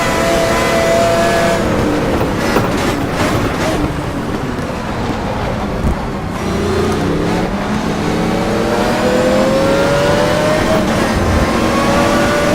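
A race car engine revs and drones loudly in the racing video game GTR Evo, holding a strong continuous tone that climbs in pitch toward the end, running close and steady the whole time.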